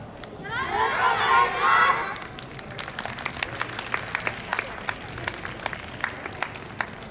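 Audience at the Ashikaga YOSAKOI festival cheering and shouting loudly for about two seconds, with children's voices prominent, then settling into steady scattered clapping with crisp individual claps continuing to the end.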